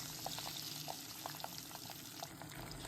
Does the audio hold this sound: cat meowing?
no